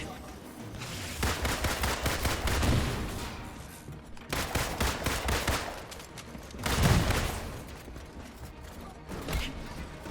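Bursts of laser gunfire in the Marvel's Avengers video game on Xbox Series S, several loud crackling volleys with short gaps between them, repeating across the clip.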